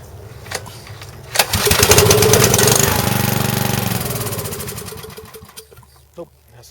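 An 8hp Briggs & Stratton engine is cranked and sputters briefly without catching, a loud rough burst that fades out over a few seconds.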